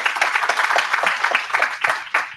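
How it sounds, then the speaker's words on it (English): A small audience at a climate action report launch in South Africa gives a panel a round of applause, a close, lively patter of individual claps that continues for a couple of seconds. "Can we have a round of applause for them?"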